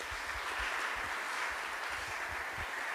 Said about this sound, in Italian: Possiamo fare un applauso ai nostri tre...